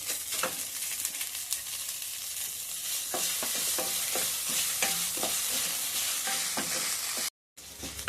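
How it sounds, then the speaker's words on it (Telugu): Green chilies and salt roasting in oil in a pan, a continuous close sizzle broken by repeated scraping stirs of a spoon, with a brief cut to silence near the end. "మిర్చి మంచిగా వేగిపోయినాయి అండి మిర్చి సాల్ట్ మంచిగా వేగిపోయినాయి"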